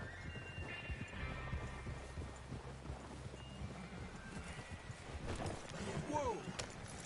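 Hooves clop steadily on the ground under quiet talk, then a horse whinnies near the end, in the video game Red Dead Redemption II.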